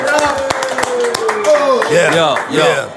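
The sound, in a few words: audience clapping hands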